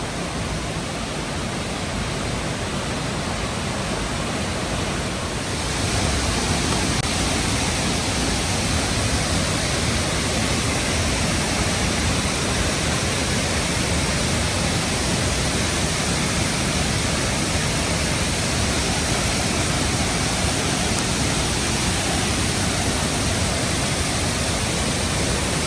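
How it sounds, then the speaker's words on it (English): Eagle Nest Falls in Arkansas, running high in flood conditions, produces a loud, unbroken roar of rushing water that holds steady throughout, with no other sounds standing out. "I always like to see the waterfall from the bottom."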